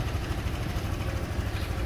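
A Honda SH 300i scooter engine idles steadily up close, a low, even thrum running unbroken for about two seconds with no voices over it.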